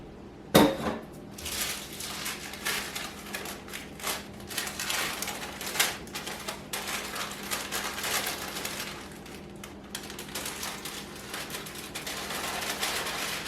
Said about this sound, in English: I like to make sure that the baking powder really gets mixed around like it should.